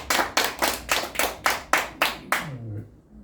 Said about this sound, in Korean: 자, 박수 한번 합시다.